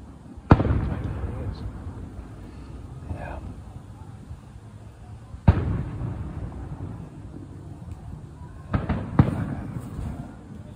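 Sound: fireworks exploding

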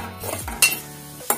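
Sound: vermicelli being roasted and stirred in ghee

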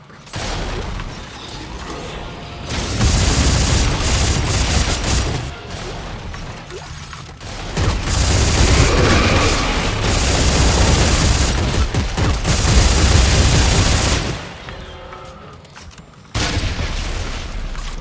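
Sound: automatic gunfire in video game Dead Space 3

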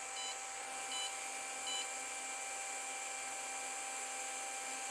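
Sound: WalkSnail goggles beeping in linking mode

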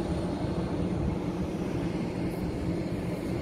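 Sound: airplane at Vienna International Airport

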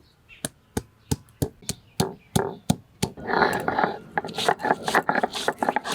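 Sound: crushing ginger for mutton spice paste

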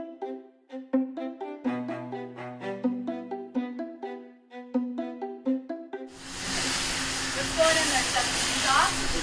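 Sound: meat searing in a hot pan

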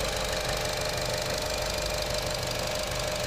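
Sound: 2014 Buick Encore 1.4 liter turbo engine idling

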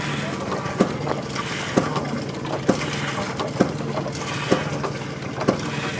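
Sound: fire-powered hot air engine running

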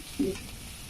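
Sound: ginger and garlic frying in a pan

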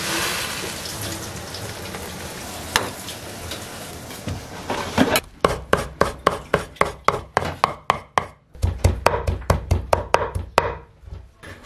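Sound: knife chopping blanched shepherd's purse (wild greens) for dumplings

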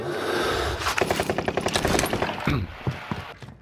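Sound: gunfire in video game Call of Duty Warzone

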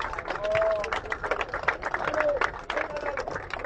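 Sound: applause for the young people

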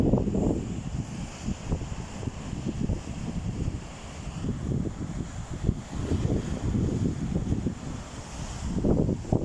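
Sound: strong wind at a beach

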